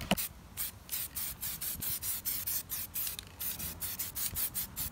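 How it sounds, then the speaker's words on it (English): A spray can lays satin black paint over chrome trim on the kidney grilles of a BMW E34 540i, heard as a rapid series of short, close hissing bursts in a quick, even rhythm. "So now what we're going to do is we're going to layer a little coat of a satin black."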